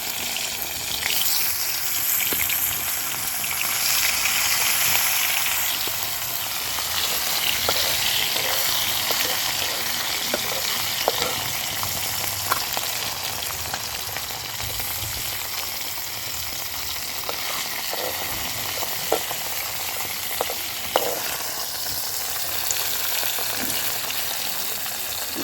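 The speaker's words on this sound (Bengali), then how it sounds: "কড়াতে তেল গরম হয়ে গেছে। আমি এখন মাছ ছেড়ে দিচ্ছি।" Parshe fish frying in hot oil in a wok, a steady dense sizzle throughout with occasional sharper pops and crackles, close and fairly loud, no voices.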